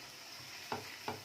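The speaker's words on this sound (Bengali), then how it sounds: "ভালোভাবে জিনিসগুলোকে, মশলাগুলোকে আগে আমাদের কষে নিতে হবে" Mutton keema and spices sauté in a pan with a faint background sizzle, broken by two distinct scraping stirs of a spoon near the end.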